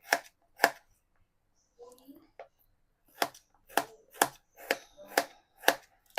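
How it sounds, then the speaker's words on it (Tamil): Apples cut into small pieces on a board, with two sharp chops, a short pause with faint shuffling, then a steady run of six crisp knife strikes, close and clear with no talking. "இந்த மாதிரி எல்லா ஆப்பிளையும் நம்ம சின்ன சின்ன பீஸாக கட் பண்ணி எடுத்துக்கணும்"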